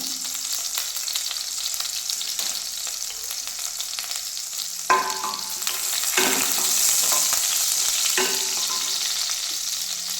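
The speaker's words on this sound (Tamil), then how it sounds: "இப்போ கடுகு வெடிக்க ஆரம்பிச்சிருச்சுங்க" Mustard seeds splutter in hot oil in a pot, a continuous high crackle and hiss that swells after a few sharp clanks of a spoon against the vessel, close and steady.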